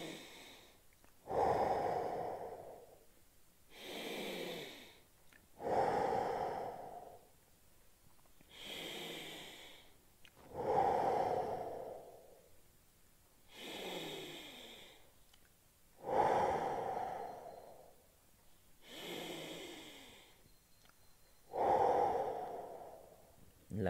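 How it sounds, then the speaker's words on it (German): Slow, deep breathing during a stretching exercise, with audible inhales and exhales alternating in a steady rhythm about every two and a half seconds, close and clear, with no talking. "fünfmal atmen."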